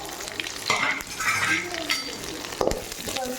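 Sliced large onion fries in a pan while being stirred: a steady close sizzle with scraping utensil strokes and a sharp clink of metal on the pan.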